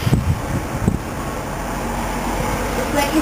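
Wind gusts in a snowstorm, a steady broad rush of air buffeting the microphone, with a few low thumps early on and no clear voices.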